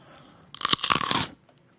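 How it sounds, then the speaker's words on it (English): One bite into a raw carrot for foley, a single loud, crisp crunch with splintering cracks lasting under a second, close to the microphone in a quiet room. "Sound of me biting the carrot is the sound of broken bones."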